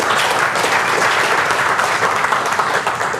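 A dense burst of clapping from a sizable crowd, loud and sustained throughout, with a few voices faintly mixed in.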